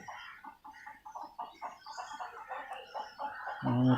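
Newly bought free-ranging chickens cluck in a quick, irregular series of soft calls close by, ending in a louder burst of noise.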